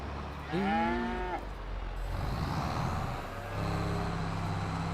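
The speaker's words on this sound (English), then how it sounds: "Happy cows." A dairy cow gives a loud, clear moo at feeding time on a family farm, followed by a lower, fainter moo, over a steady rumble of farm machinery.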